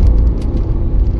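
A 2014 BMW 530d M Sport diesel accelerating on a highway at speed, a loud, steady low rumble of engine and road noise from inside the cabin, continuous with no voices.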